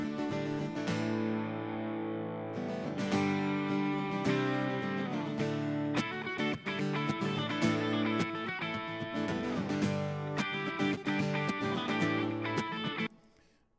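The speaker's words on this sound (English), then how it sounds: "let's see what it sounds like with the acoustic guitar" Strummed and plucked acoustic guitar playing steadily with sustained chords, loud and close, stopping abruptly near the end.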